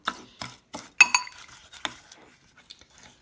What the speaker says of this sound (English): mix the egg in with the butter and the sugar. Then we're going to give this a stir around